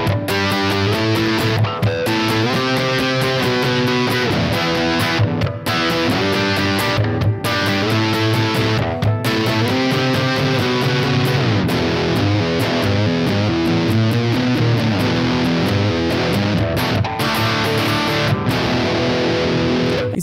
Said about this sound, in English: It sounds like it's pretty high gain